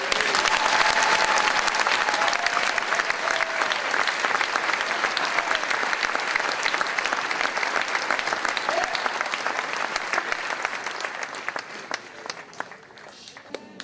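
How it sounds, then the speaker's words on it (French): An audience at a church gathering applauds to acclaim the Lord, a long, loud wave of rapid clapping that holds steady and then slowly fades toward the end. "On acclame le Seigneur."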